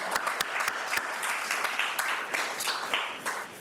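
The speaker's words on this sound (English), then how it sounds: "Let's give you a round of applause." Audience members at a children's behavioral health summit give a round of applause, with a few sharp individual claps standing out over steady, moderately loud clapping throughout.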